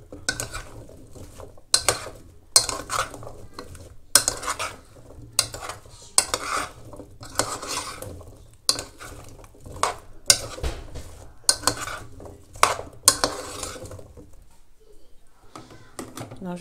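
Pumpkin, ginger, onions and carrots cook in butter in a pan, with a quiet sizzle under repeated sharp clatters of a utensil stirring and scraping against the pan.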